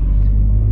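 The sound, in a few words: BMW E39 528i car engine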